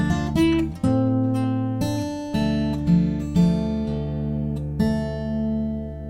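Fingerstyle acoustic guitar plays the second line of the Harry Potter theme, a run of plucked notes that ring out with sustained bass and melody strings, steady and close with no voices.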